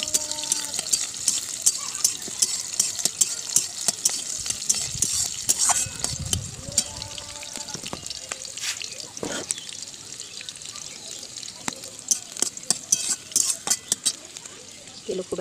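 Chopped green chilli and onion fry in a little oil in a pan while a utensil stirs and scrapes, soft sizzling under irregular metallic clinks, with a voice speaking briefly partway through.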